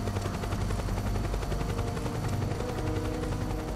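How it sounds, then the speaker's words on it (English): Helicopter rotor drone mixed with rapid gunfire from the video game Metal Gear Solid 4: Guns of the Patriots, a dense, continuous loud din with repeated shots throughout. "Helicopter!"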